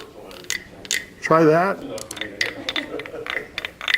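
A big wooden frog rasp toy scraped once along its ridged back, giving a short loud croaking rattle of rapid clicks over a noisy room, with people talking around it.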